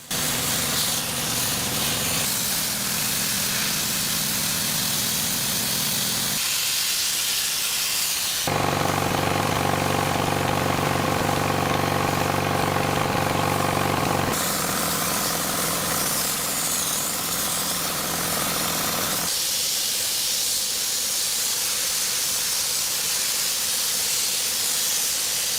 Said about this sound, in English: Filling the sandblasting machine with sand and spraying it on the cabin walls will completely remove the dirt and dark layers here